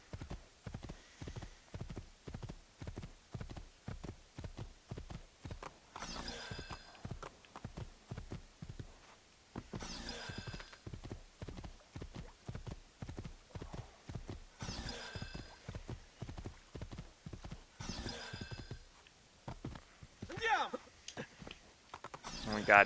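A horse's hooves clip-clop in a steady rhythmic gallop in Assassin's Creed 2, with a few sharp whinnies breaking through at intervals and a louder burst near the end.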